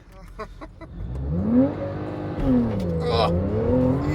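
A Porsche 911 GTS launches with launch control, its engine revving up and then pulling hard through a rising note, heard from inside the cabin with people talking over it.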